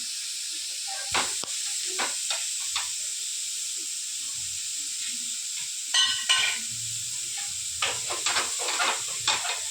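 Tomatoes fry in a pan on low flame with a steady soft sizzle, broken by a few sharp scraping and stirring clatters of a utensil against the pan, heard up close with no talking.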